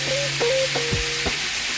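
Banh mi filling frying in a hot pan, a steady sizzle with a few soft knocks and scraping stirs, close and fairly loud, with no voices.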